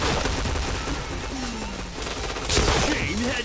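Bursts of rapid gunfire in a shooter video game, crackling shots clustered through the clip, louder toward the end, with a voice speaking briefly under the action.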